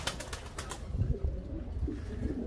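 Pigeons arrive nearby with a brief flutter of wings, followed by soft, faint cooing and rustling at moderate distance in a quiet setting with no speech.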